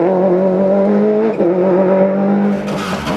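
Rally car at the 2000 Killarney Rally of the Lakes climbing a hill stage, a loud close engine howl holding high revs with a brief dip and rise in pitch, sliding tail-happy.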